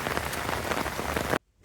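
Heavy rain pours on the grounds of Fort Siloso on Sentosa Island, Singapore, a dense, loud, continuous patter with no voices, which cuts off abruptly near the end.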